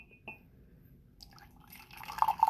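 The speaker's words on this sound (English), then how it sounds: "I'm gonna go ahead and pour some out" Zealong oolong tea poured into a cup, a soft trickle that builds over a couple of seconds into a brighter, louder liquid splash near the end, with a faint drip early on.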